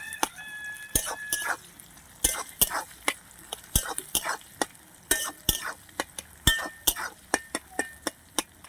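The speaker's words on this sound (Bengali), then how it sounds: "দেখুন পেঁয়াজটা এবার আমি বাদামি রং হওয়া অবধি ভাজবো।" Chopped onion fries in a pan until brown for a mango chicken dish, with sharp spatula clinks striking the metal in an irregular rhythm over a faint, steady sizzle.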